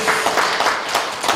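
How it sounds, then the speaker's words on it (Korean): Church congregation applauding together, a steady wash of many hands clapping at close range with slight swells in intensity, no voices standing out. "영광의 박수 올려드립니다"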